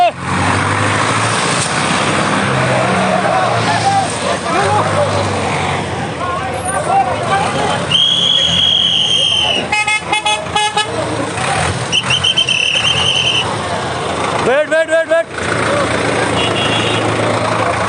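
Heavy truck being winched by a hydra crane back up onto a mountain road near Banihal, its engine droning steadily beneath repeated horn toots, with people shouting and talking throughout.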